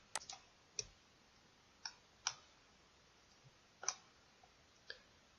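Computer mouse clicks while working in CAD software: about eight sharp, quiet, separate clicks at irregular intervals over near silence.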